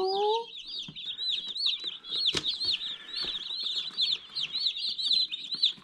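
Broiler meat chicks in a brooder keep up a dense stream of high, rapid peeping and chirping. A few deeper clucks and a brief flutter of movement sound through it, and the chorus is close and busy throughout.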